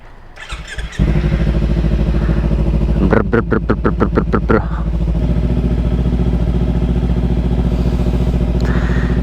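Kawasaki Ninja 300 motorcycle running close by with a loud, steady engine drone and a brief stretch of rapid revving pulses in the middle.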